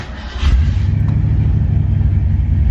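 A classic Ford Mustang engine, primed with one pump of fuel and the choke open, fires up after a brief moment and settles into a loud, steady, rumbling idle close by.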